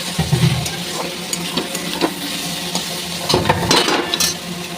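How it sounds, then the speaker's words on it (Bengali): Chopped carrot, onion and garlic sizzle in a pan, joined by scraping stirs and occasional utensil clinks against the metal, close and fairly loud. "এখানে দিয়ে দেবো কেটে রাখা গাজর আর পেঁয়াজ রসুন চপ করে রাখা"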